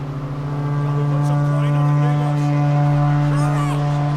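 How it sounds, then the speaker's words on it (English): A deep, sustained horn blast in The Witcher 3: Wild Hunt signals a race start, droning steadily throughout, rich and loud, with faint voices murmuring underneath. "You'll start when I sound the horn"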